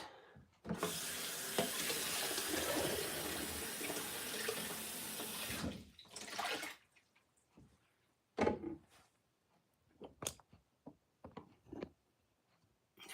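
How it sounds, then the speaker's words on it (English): A lid is rinsed under a running tap in a sink while tidying up after a rock clean-up, with a steady close rush of water for several seconds, then scattered clunks, drips and short splashes as the flow stops and starts. "I'm just over here washing the lid."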